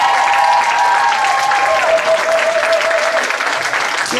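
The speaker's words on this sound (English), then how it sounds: "give yourselves all a round of applause" Applause from an audience at a village pantomime awards event, steady dense clapping that fills the whole stretch, loud and close, with a few voices calling out over it.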